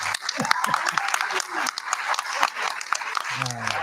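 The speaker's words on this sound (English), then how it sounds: "Let's give Flipboard a round of applause." An audience applauds a sold-out Flipboard project in a packed room, a steady wash of clapping running throughout, with some voices and a lower hum near the end.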